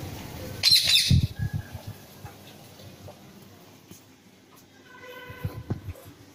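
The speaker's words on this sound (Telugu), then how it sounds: "ఎంత బాగా వచ్చి కేరింతలు కొడతా ఉంటాయి చిలుకలు" Parrots, drawn in the morning, squawk and chirp outdoors in a loud burst early on, then several scattered calls and a fainter flurry of chirps near the end.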